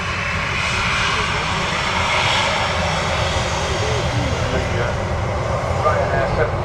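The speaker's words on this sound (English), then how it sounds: "Ryanair 737 vacates the runway there." Jet engines of a Ryanair Boeing 737 roar steadily on the runway at Manchester Airport, a loud continuous broadband rumble and whine that holds level for several seconds.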